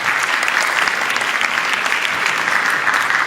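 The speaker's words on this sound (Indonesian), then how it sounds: "Berikan tepuk tangan untuk Kalis Mardi Asih." An audience at an Indonesian student discussion event applauds a guest speaker, a writer and activist, with loud, dense, steady clapping that fills the whole moment.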